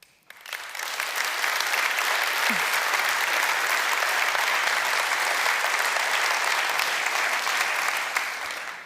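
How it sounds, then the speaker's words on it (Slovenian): A large audience at an awards ceremony applauds steadily, a dense sustained clatter of clapping that swells in quickly and holds evenly before easing at the end. "to je vaš aplavz"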